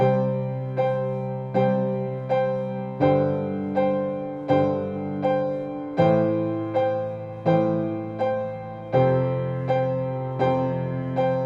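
A level 2 piano exercise alternates the hands: two right-hand strikes for each left-hand note, played as regular, evenly spaced chords that ring and decay between attacks, with no talking.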